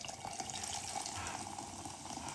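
Liquid being poured into a container in a home kitchen, a quiet, continuous trickling splash with a steady gurgle, faint and unbroken.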